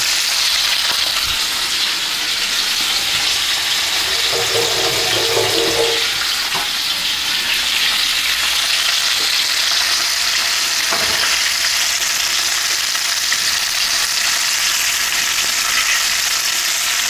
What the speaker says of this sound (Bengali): মাছগুলোকে ভেজে আমি সেম পাত্রে তুলে নেব